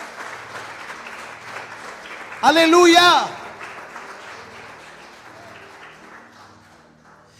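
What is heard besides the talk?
church congregation applause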